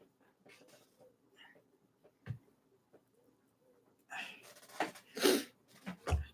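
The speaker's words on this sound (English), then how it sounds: "I'm gonna sneeze." A single sharp sneeze bursts out near the end after quiet breathing and faint rustles, followed by a couple of snorting sniffs, close to the mic.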